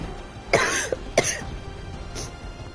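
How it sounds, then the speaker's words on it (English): A game player coughs several times in quick succession, hoarse and close, with throat-clearing sounds and no speech. "I am still coughing."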